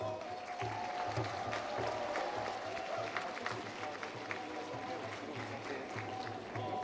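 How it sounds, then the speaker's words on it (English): Audience applause for cultural troupes at the Hornbill Festival in Nagaland, a steady, dense wash of clapping sustained throughout with faint crowd murmur and some voices beneath. "Shall we give all our cultural troupes an encouraging round of applause?"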